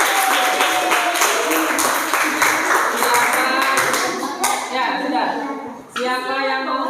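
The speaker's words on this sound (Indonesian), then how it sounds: "tepuk tangan untuk kelompok 2 ya" Classroom students clapping for a presenting group, a brisk burst of hand claps that thins out, with some voices and clatter mixed in.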